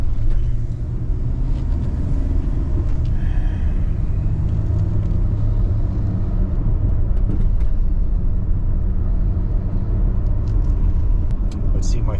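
A Dodge Caravan with a rising temperature gauge and a fan that will not cut in rolls along on a test drive, a steady low engine and road rumble heard from inside with someone talking over it.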